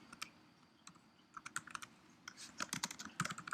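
Fingers typing a comment on a computer keyboard: quick, irregular clicks close by, sparse at first and then a faster cluster of keystrokes, with no talking.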